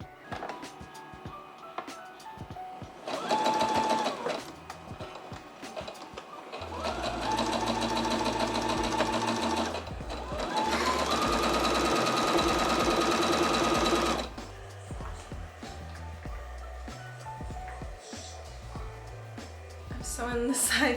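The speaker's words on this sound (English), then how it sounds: "Sewing the side seams." A sewing machine stitches the side seams of a large shirred fabric skirt in several bursts of steady whirring, the longest running continuously for about seven seconds, separated by short pauses with fabric handling between them.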